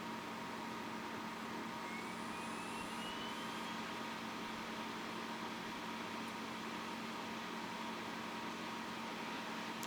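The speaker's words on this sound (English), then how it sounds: "You'll hear the disk spin up." A MacBook's CD drive spins up during boot, a faint steady whirring hum with a thin rising whine, heard alone and continuously under a quiet background hiss.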